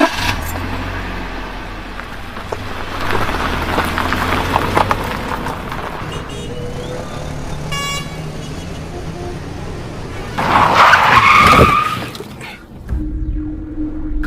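A car rumbles along a road with steady engine and traffic noise, a short horn-like tone midway, and a louder jangling, rattling burst near the end.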